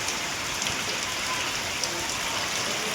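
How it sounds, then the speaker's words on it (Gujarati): Steady heavy rain pouring down outdoors, a dense continuous hiss of drops striking surfaces, close and even for the whole stretch. "ભાઈ વરસાદ પણ સારો એવો પડી ગયો છે"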